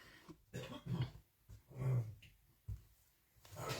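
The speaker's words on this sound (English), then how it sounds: "Sorry if you could hear him coughing" A man coughs in several harsh, separate bursts, close to the microphone, with short quiet gaps between them.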